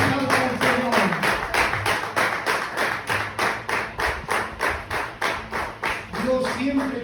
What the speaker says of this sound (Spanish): Qué fuerte ese aplauso al Señor.